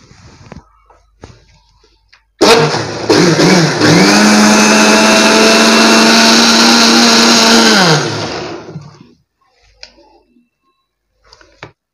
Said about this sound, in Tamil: இதை மிக்சியில் அடிச்சுக்கலாம், மிக்சியில் போட்டுட்டு நல்லா பிளெண்ட் பண்ணிக்கோங்க